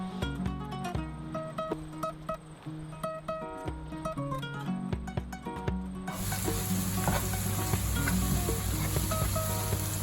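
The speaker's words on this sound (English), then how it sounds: "we are going to add 3/4 cup of oil, and we are going to fry our onions" Onions hit hot oil in a heated pan partway through, and a loud, steady sizzle takes over from the music playing before it.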